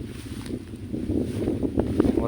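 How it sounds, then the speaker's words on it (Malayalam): Strong wind blows across the summit of Kurishumala, a grassy hilltop above a steep drop, producing a loud continuous rumble and buffeting against the microphone that surges slightly without any voices. "നല്ല കാറ്റ് വീശുന്നുണ്ട്."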